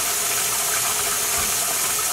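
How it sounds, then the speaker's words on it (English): Warm tap water gushes steadily into a dye pot, a continuous hissing, splashing fill that holds at an even level with no voices. "I am going to fill this up with warmish tap water"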